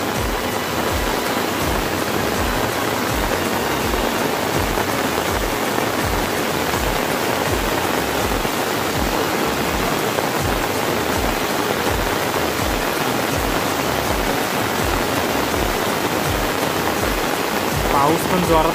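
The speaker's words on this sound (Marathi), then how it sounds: "पाऊस पण जोरातच लागला" Heavy monsoon rain pours steadily near a river in a rural farm area, a dense, unbroken roar of drops that stays loud and even throughout with no voices.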